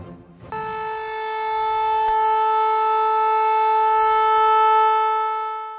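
A civil defense air raid siren in Ivano-Frankivsk, Ukraine, sounds at night with a steady, sustained wail that slowly swells in loudness and holds, ringing alone without any voices.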